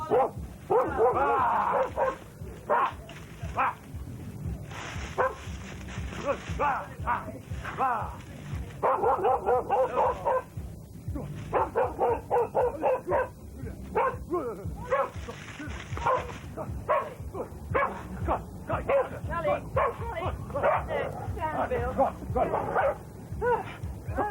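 Several dogs bark and yip repeatedly at close range near a farm by the 1992 Glastonbury festival, with people talking over and between the barks throughout.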